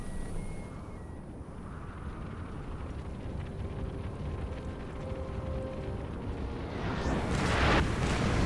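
Artillery fire and explosions in the Napoleon: Total War Egyptian campaign, a dense continuous rumbling battle din that swells louder near the end, with no voices.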